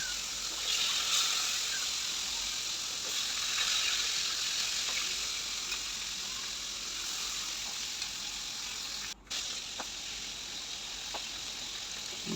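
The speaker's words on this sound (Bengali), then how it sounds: "মাছটা ভেজে নেব আর মাছটা রান্না করব সরিষার তেল দিয়ে তবে মাছটা বেশি ভাজবো না মানে হালকা করে ভাজব" Fish frying lightly in mustard oil, a steady close sizzle and hiss that runs unbroken with one brief dropout near the end.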